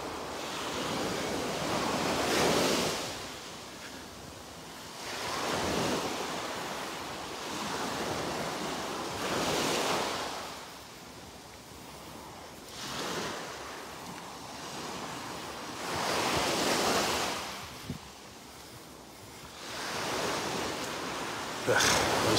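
Ocean waves break on a beach at Delnor-Wiggins, with steady surf that swells and recedes in repeated rolling surges under constant wind noise, and no voices.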